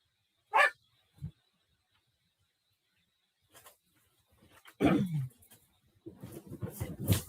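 A pet dog named Bobo gives a couple of short, sharp barks, falls quiet, then breaks into louder yelps and a longer stretch of whimpering and whining close by.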